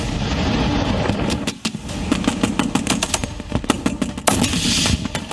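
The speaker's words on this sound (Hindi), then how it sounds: "पाकिस्तानी फौज टैंक, तोप, आर्टिलरी, ड्रोन और हेलीकॉप्टर के साथ बॉर्डर ड्रिल करती दिखाई दी" A Pakistani army border drill with tanks and artillery produces rapid, crackling bursts of gunfire that run almost without pause over a dense, loud rumble, with a brief dip before the firing resumes.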